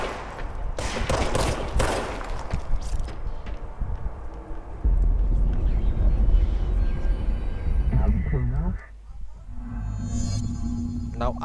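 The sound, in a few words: gunfire in the video game Control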